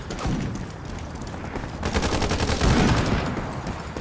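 Rapid K2 rifle fire in the online shooter Ironsight: dense, loud bursts of automatic shots that continue throughout, with the firing growing heavier toward the end.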